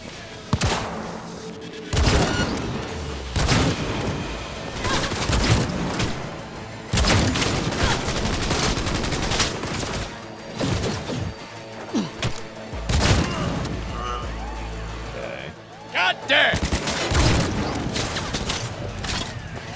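Revolver gunfire in Cyberpunk 2077, loud repeated shots in irregular bursts with sharp cracks and booming tails, mixed with mechanical clicks and combat noise throughout.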